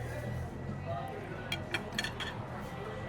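Glasses clink together in a toast at a restaurant in Newstead, Brisbane: a few light, bright taps close together over a murmuring dining-room background.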